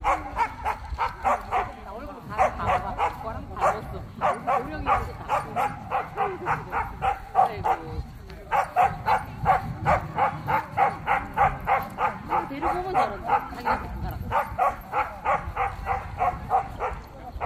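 Jindo dogs bark repeatedly at a Korean Jindo dog show, with a long run of rhythmic barks and yips, loud and continuous, while an announcer talks over a loudspeaker.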